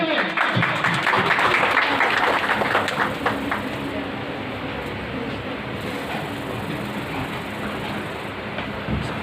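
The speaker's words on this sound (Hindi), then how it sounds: "आपकी भरपूर तालियों में" Applause from an audience at a ladies' wing media cell tribute event in Tarnol, Islamabad, a dense, steady wash of clapping that runs the whole stretch and eases slightly after the first few seconds.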